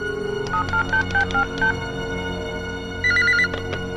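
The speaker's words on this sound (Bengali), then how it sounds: "ফোন স্পিকারে দিলাম" A phone keypad beeps through a quick series of tones, then a short burst of ringing tone plays over a low steady hum.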